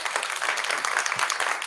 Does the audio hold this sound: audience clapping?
yes